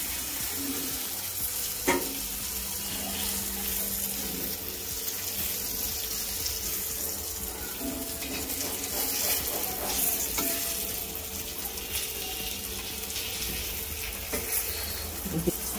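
Surmai fish fried in a pan Malvani style, a steady close sizzle of hot oil running throughout with occasional clicks and a sharp knock as the pieces are turned, with no voices.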